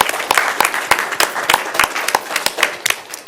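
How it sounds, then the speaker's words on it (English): Audience at a city council meeting applauding children and families: a short round of fairly close clapping from a modest group, sharp individual claps in an uneven patter. "Can we just give them a quick round of applause for showing up?"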